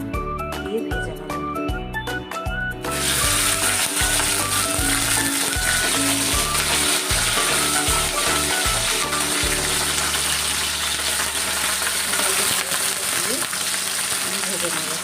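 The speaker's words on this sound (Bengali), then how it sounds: "এবার আমি হালকা করে ঢ্যাঁড়সগুলো দিয়ে ভেজে নেব।" Okra drops into hot oil in a wok and sets off a sudden, loud, steady hiss of frying that continues close by, after a few seconds of quieter kitchen sounds.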